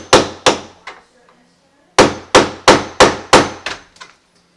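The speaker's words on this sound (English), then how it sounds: "And you just take a hammer and" A hammer strikes a Phillips screwdriver set against the bottom of a pin to drive it out. There are three sharp metallic taps, a pause, then a quicker run of about seven loud, close blows, each ringing briefly.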